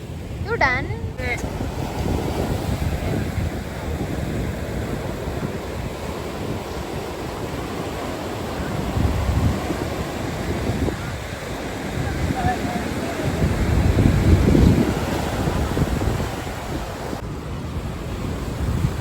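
Strong wind buffets the microphone over rough surf at night on Shankhumukham beach, a constant roar of crashing sea waves with louder swells midway and near the end, with no talk.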